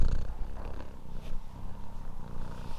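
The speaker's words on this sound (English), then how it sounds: "Can you hear the purring?" A cat purring steadily up close while being rubbed, a low rumbling drone with soft breathy pulses and faint handling noise, no talking.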